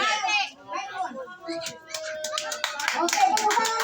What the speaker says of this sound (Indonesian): tepuk tangan buat opung kita